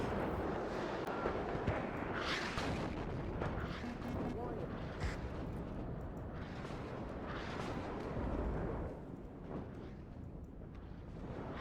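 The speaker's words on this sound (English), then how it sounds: "That's a lot of arty." Heavy artillery barrage in the real-time strategy game WARNO, a dense continuous rumble of overlapping booms and blasts, loud and sustained, with a voice talking faintly underneath.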